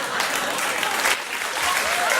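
Studio audience on a late-night talk show breaking into a brief, loud, continuous burst of applause with a little crowd noise, sustained throughout without letting up.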